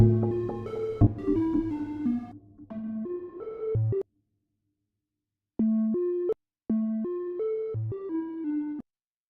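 Synthesizer playing a soft triangle-wave tone in short, clipped melodic notes with gaps and pauses between phrases, clean and moderately quiet with no voices.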